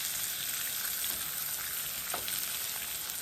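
Spicy jerk pork chops frying in a hot pan, giving a steady, dense, close sizzle throughout with a faint scrape near the end and no talking.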